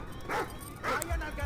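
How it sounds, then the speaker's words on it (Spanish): A dog in Call of Duty Ghosts gives two short, muffled barks about half a second apart, set against a steady game background hum. "Ese perrito nos ladra."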